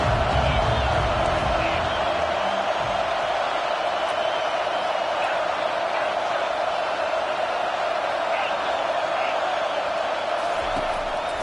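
A Florida football stadium crowd roars steadily throughout, a dense, sustained wash of cheering and noise with no breaks, as heard from within the stands or broadcast booth.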